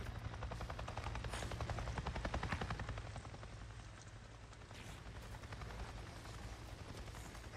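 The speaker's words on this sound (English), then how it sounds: "I just saw a goddamn chopper!" Helicopter in the video game Days Gone, a rapid chopping rotor beat that grows louder early on then settles into a steady drone, alone without talk.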